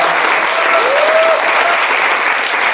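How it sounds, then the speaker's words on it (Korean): Dense audience applause after a marketing presentation at a university competition, loud and continuous clapping from a crowd, with a brief cheer or whistle heard over it. "멋진 프레젠테이션을 보여준 디자인 컨택에게 다시 한번 큰 박수 부탁드리겠습니다"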